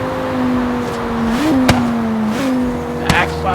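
Engine of a '95 Audi RS2 Avant in Forza Horizon 3, a droning tone that climbs and dips with revs, punctuated by sharp popping backfire cracks, with someone talking briefly.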